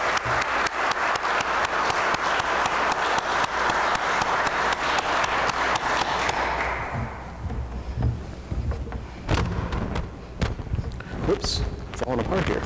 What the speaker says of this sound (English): Let us all give a round of applause to our parish graduates